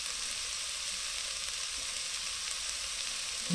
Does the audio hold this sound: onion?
yes